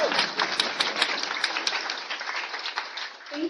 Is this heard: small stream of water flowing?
no